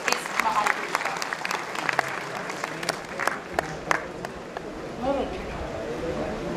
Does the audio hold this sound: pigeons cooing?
no